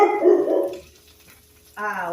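A dog barks loudly several times up close, then a pause with faint background hum before a voice begins.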